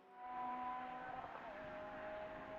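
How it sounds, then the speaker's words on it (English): A GT race car at Mugello roars past at speed, its engine note loud and sustained as it flashes by, with a falling pitch as it goes away. "Makes a wonderful noise out of the window, and as it flashes by"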